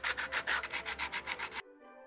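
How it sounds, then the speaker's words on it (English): Wet sanding a primer-coated 3D pen figure of the Toy Story alien, a rapid series of about a dozen rhythmic rubbing strokes, close and crisp, then stopping abruptly. "it's time to wet sand it off"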